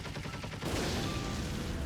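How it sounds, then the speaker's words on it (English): Rapid gunfire in a video game, a rattling rhythmic burst of shots that gives way to a denser, continuous blast of fire, loud and close with no voices. "The Grey Chameleons take aim and open fire."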